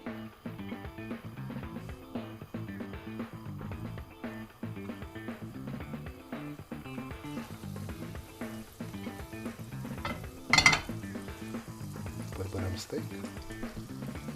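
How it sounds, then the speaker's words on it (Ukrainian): Quiet, steady frying sizzle of carp steaks in butter in a pan, close by and low in level, with a brief louder splash of hissing near the end. "додаємо шматочок вершкового масла і відправляємо наші стейки"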